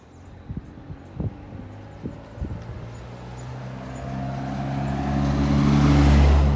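Vehicles travel along a road near St. Andrew Parish Church in Barbados, a few faint knocks and thumps giving way to a rising engine rumble as one approaches and grows loud nearby.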